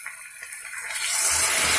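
A small splash of water is poured into a fish mixture, starting as a soft hiss and building to a steady, close gush.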